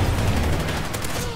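Shotgun fire from the KSG in the Call of Duty Ghosts multiplayer game, a dense, continuous burst of gunfire and game noise filling the short stretch without pause.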